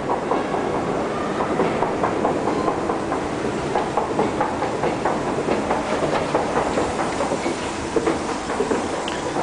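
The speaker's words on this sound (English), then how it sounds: "Okay, we're about to submerge from the metro." A Paris metro train runs near Censier Daubenton station with a continuous rumble and a steady clickety-clack of wheels over rail joints, heard up close and loud with no voices.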